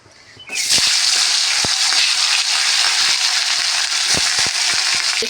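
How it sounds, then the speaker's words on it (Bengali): A loud burst of hissing as lata (snakehead) fish hits hot oil, settling into continuous vigorous frying with sharp pops and crackles scattered throughout. "তেল গরম হয়ে গেছে ছেড়ে দেবো তেলের মধ্যে"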